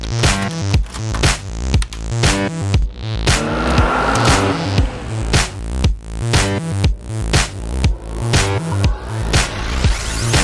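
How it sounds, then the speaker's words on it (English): Engine drone and repeated tire squeals from the 1984 ColecoVision racing game Dukes of Hazzard, with loud, buzzy, pulsing chiptune engine tones that rise and fall in regular cycles and sharp squealing bursts throughout. "So this is Dukes of Hazzard. It is a racing game that came out in 1984."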